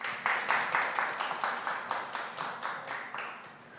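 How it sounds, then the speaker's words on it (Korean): Applause at the 2021 Jeju culture and arts forum: a moderately distant audience claps in a quick, steady rhythm that gradually tapers off, with no talking over it. "여러분 큰 박수 부탁드립니다."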